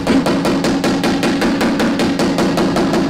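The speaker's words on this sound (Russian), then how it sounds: "Отстучать молоточком, чтобы вот этот бугор ушел." Small hammer tapping out a bump in the rolled wheel arch of a Toyota Mark 2 JZX90, a fast steady run of metallic knocks, close and loud, with no talk.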